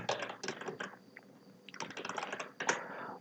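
A name being typed on a computer keyboard in bursts of quick, crisp key clicks, close and fairly clear, separated by short pauses.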